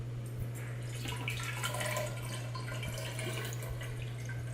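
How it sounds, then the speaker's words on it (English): Water is poured over plant leaves sitting in containers, a soft trickling and splashing wash with a few drips, faint over a steady low hum. "I'm going to cover them with water"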